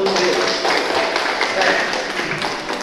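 An audience at a student organization leadership seminar breaks into brisk, close clapping that fills the whole moment with a dense crackle, voices mixed in.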